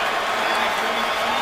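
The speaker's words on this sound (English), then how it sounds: "And finally something for these fans to cheer about." San Francisco 49ers fans in a football stadium roar with cheers and applause after a big defensive play, a dense, loud, steady crowd wash.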